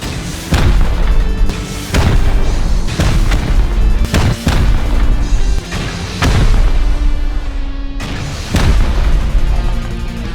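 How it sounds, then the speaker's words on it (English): Repeated heavy rocket blasts from the game Rust hammer at a metal base wall, roughly eight loud booming impacts spaced across the stretch with rumbling decay between them and no voices. "So he came round with some rockets, some proper rockets. So we decided to blow a massive hole through the side of the wall"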